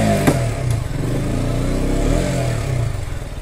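KTM motorcycle engine starting up with a quick crank and catch, then revving in repeated loud swells over a throaty, close idle, with no talk.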